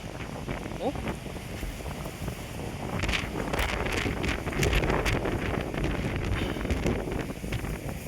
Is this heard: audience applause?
no